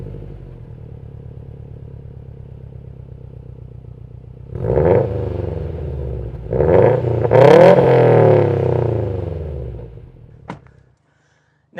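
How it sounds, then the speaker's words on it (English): A Subaru STI with an aftermarket exhaust idles with a steady burble, then revs sharply in several loud blips that fall back, before cutting to silence. "This particular one does have an aftermarket exhaust system"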